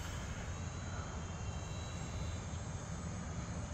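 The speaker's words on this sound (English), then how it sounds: "I think these are 1100 millimeter wingspan airplanes." An RC model F4U-4 Corsair warbird with roughly 1100 mm wingspan flies overhead on a still morning, giving a steady, continuous electric motor drone with a broad whirring buzz, fairly even in loudness and with no voices.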